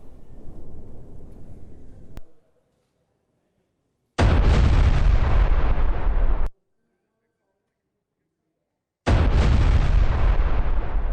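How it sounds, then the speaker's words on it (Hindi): Two loud, close blasts from a landmine destroying a Hezbollah tunnel, each a sustained roaring burst of about two seconds that cuts off abruptly, with a few seconds of near silence between them, following a fainter rumble at the start. "हिजबुल्लाह की सुरंग को लैंड माइन से कैसे उड़ाया गया,"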